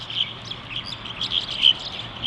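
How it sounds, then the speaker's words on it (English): Several small birds fighting, giving a continuous flurry of high, shrill chirps and tweets close by, busy and overlapping with no talk. "Look at this. 4 birds fighting."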